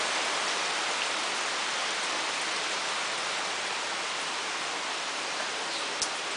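Steady rain falls outside, a dense, even hiss that holds constant and close throughout with no speech over it, and a single faint tap near the end.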